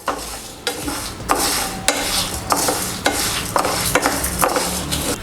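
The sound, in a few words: stirring toor dal powder heating in a pan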